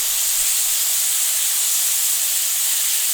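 A quesadilla burger sizzles loudly and steadily in a hot pan right after being flipped, a continuous bright hiss close up with no talk over it.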